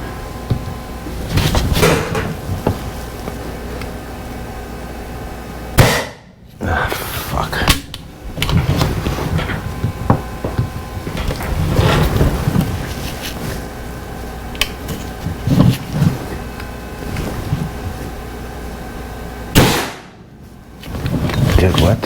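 Series of sharp, loud gunshots from a firearm fitted with a Bohemoth suppressor, repeated every few seconds at close range, with someone talking between some shots.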